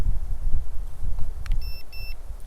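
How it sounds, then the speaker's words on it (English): A Holy Stone HS210 mini drone controller gives two brief electronic beeps after gyro calibration, clear but short, over heavy wind noise outdoors. "and it'll beep like that, and you are calibrated"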